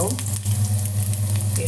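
Chopped shallots and two dried red chillies sizzle loudly in hot oil in a pan, with a steady bright crackle throughout.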